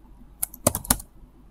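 Several quick keystrokes on a computer keyboard as a command is typed, close and faint, in a short irregular burst with no talk.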